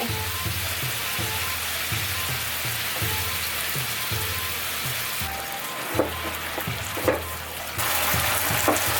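Pork frying in a pan in a home-style Japanese kitchen as sauce is poured in, giving a steady close sizzle with stirring scrapes over a soft looping musical background, with no talking.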